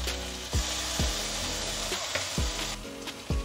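Ginger, green chili and peanut paste fry in a pan with a steady sizzle, broken every half second or so by sharp scraping knocks of a utensil against the pan.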